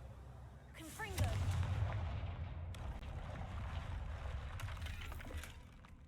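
The Confringo blasting spell from Hogwarts Legacy fires with a sharp crack, then a heavy explosive rumble that shatters and roars for several seconds before fading.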